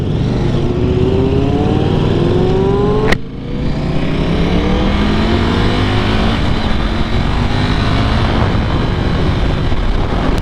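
A stock KTM RC8 motorcycle accelerates hard while riding, the engine whine climbing through rising sweeps, dropping briefly at a gear change near three seconds, then climbing again under loud constant wind roar.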